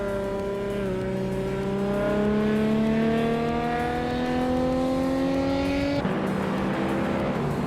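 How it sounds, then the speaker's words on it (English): A 1986 Alfa Romeo Spider QV racing car engine revs in a steady climbing drone through one gear, then shifts sharply near the end, loud and close with no voices. "Lamborghini Tube is driving a 1986 Alfa Romeo Spider QV in, and is currently in the lead"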